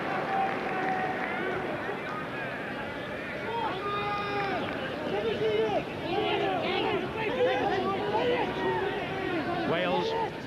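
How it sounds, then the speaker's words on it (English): A rugby crowd at a 1991 Wales versus Papua New Guinea match roars and chatters steadily, a dense wash of cheering voices that swells a little midway and holds loud throughout. "Say every time Davis gets the ball, this crowd really does come alive."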